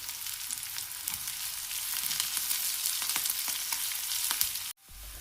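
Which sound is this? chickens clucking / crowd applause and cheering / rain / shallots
shallots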